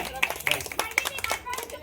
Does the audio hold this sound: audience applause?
yes